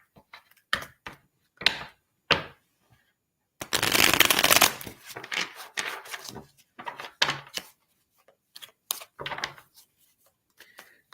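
Tarot cards shuffled by hand during a live reading, a dense burst of riffling around four seconds followed by intermittent short card snaps and slides, with some quiet talk between.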